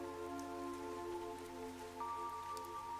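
Steady rainfall in the video game Fantasian Neo Dimension, a constant soft patter heard alone beneath sustained musical tones, even and unbroken throughout.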